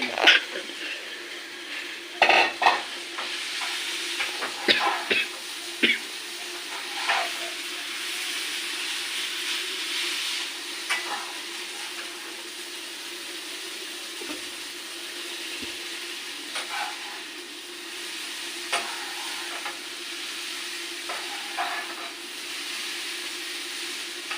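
A thick sweet laddu mixture hisses and sizzles steadily in a pan while being stirred, with scattered scraping knocks that come more often at the start.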